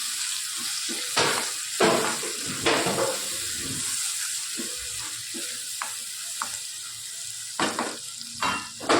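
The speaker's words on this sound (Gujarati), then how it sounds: "સરસ બધો મસાલો આપણે શેકી લઈએ." Spice masala roasts in a pan as it is stirred, with a soft sizzle broken by repeated scraping strokes, close up and fairly quiet.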